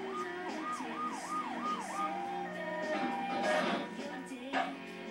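An ambulance siren from the Grand Theft Auto III video game wails in rising and falling sweeps, fairly close, then gives way to other game sounds and brief noise bursts.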